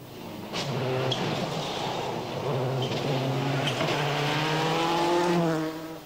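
A rally car restarts after spinning on a special stage of the 2005 Rallye du Rouergue, its engine revving up repeatedly in rising, whining bursts, moderately close and heard alone.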